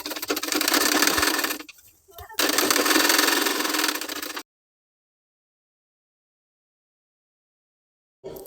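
Sewing machine stitching a sleeve lining runs in two steady bursts of about two seconds each, separated by a short pause, loud and close. Silence follows, then a brief restart at the end.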